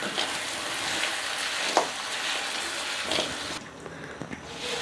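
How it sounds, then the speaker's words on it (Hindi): Jaggery is stirred into rice in a pan, giving a soft, close sizzle and scraping stir with occasional louder spoon scrapes at a fairly low, steady level. "तो अब हम इसमें गुड़ ऐड करेंगे। तो जागरी को हमने मिक्स करेंगे अच्छी तरह से।"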